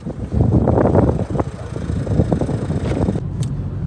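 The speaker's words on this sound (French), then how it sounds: "On a pu rouler assez confortablement dans cette Peugeot 308." Inside a Peugeot 308 1.6 BlueHDi 100 hp diesel on the A86 motorway, a steady low road rumble mixes with buffeting wind noise for the whole stretch.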